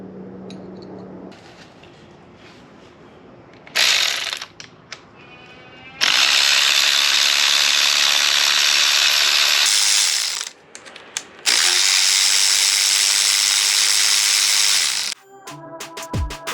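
Ratchet clicking as valve cover bolts come off a Jaguar AJ133 5.0 engine during a teardown, with several loud sustained bursts of rapid ratcheting separated by short pauses and lighter clicks.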